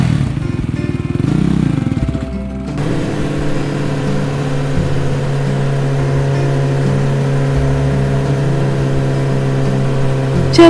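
A motorbike engine starts up after a short rumble, then holds a loud, steady drone as the bike rides off, used as a sound effect in a horror story.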